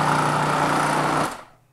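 A food processor pulsing chopped zucchini, a loud steady whirring motor burst for over a second, then cutting off and spinning down to quiet.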